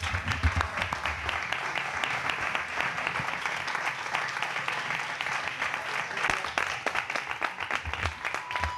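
A crowd gives sustained, dense applause that stays steady and loud from start to finish, with some voices mixed in underneath.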